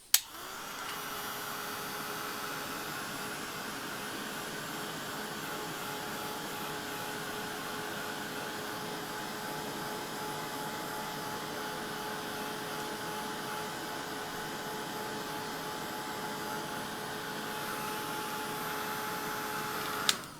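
A hair dryer blasts steadily and loudly for about twenty seconds, drying watercoloured die-cut paper flowers, with a constant whine and no one talking.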